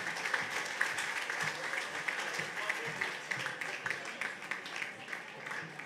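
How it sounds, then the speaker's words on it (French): Applause from a pageant audience at the Miss NC 2020 contest, a dense steady wash of clapping filling the hall throughout, with a host's voice faintly mixed in. "On peut l'applaudir bien fort, s'il vous plaît."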